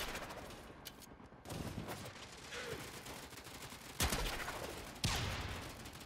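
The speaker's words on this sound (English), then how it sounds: "So if I shoot it, It'll bounce for a bit and then start firing. You can fire multiple discs." Azima pistol discs firing in the video game Warframe, a rapid stream of crisp gunfire bursts with two sharper, louder shots standing out near the end, continuous and fairly close.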